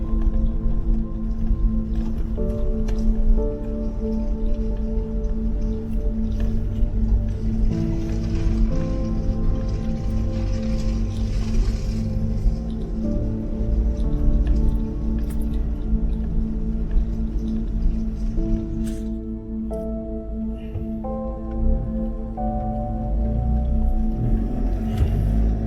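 Four-wheel-drive vehicle crossing a river in the Simpson Desert, with a continuous low engine drone, splashing and sloshing water, and intermittent knocks throughout.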